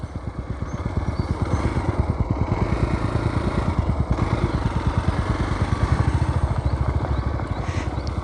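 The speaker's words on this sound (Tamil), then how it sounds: "310 GS முன்னால் போயிட்டுருக்கு." A BMW 310 GS motorcycle rides ahead on a rough road, its single-cylinder engine thumping in a loud, steady, rapid pulse that holds close and even throughout.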